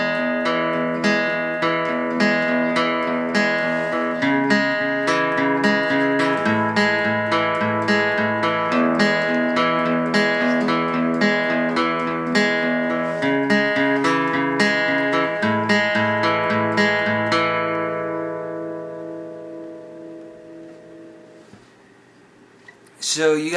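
Acoustic guitar playing the intro part of a song, steady strummed chords with a bright plucked melody over the top, loud and close, then the strings ring out and fade near the end.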